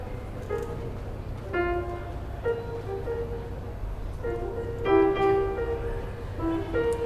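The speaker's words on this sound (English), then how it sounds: "My piano playing sounds like this." Piano played hesitantly by a non-player working out notes, a few sparse single tones and small clusters with gaps between them, fairly faint over a low constant background hum.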